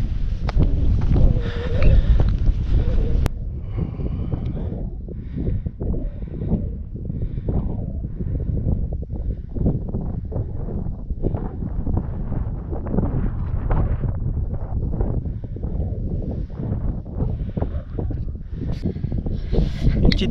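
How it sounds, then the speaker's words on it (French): Steady wind buffets the microphone with a low rumble during an uphill climb in Morocco, continuous for the whole stretch, with faint movement and rustling mixed in. "parce qu'aujourd'hui il y a du vent"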